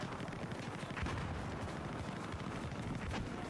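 Dense gunfire from the Battlefield 4 video game on PS4, rapid overlapping shots and bursts with heavy low booms, loud and continuous throughout with no talk.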